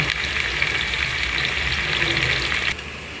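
Goat head masala fries in a pan with a steady, loud sizzle and bubbling hiss that runs almost unbroken, dropping slightly near the end; no voices.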